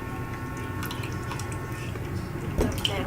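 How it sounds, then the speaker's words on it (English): Canned peaches poured from the can into a baking dish, a short wet slosh and drip of syrupy fruit, close and fairly quiet, with a brief splat near the end. "Gonna pour in your peaches."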